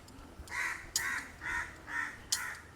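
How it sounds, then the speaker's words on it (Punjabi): Five harsh crow caws in a steady rhythm in a dense forest, moderately distant, with no talking. "ਐ ਪੰਛੀਆਂ ਦੀਆਂ ਆਵਾਜ਼ਾਂ ਹੀ ਸੁਣਾਈ ਦੇ ਰਹੀਆਂ ਇੱਥੇ"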